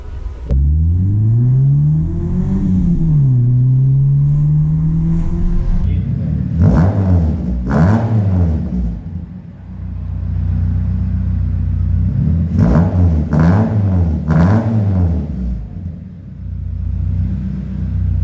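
A 1990s Renault 9 sedan with its original engine idles and revs up repeatedly, the loud rumbling engine swelling and falling through several rises in pitch.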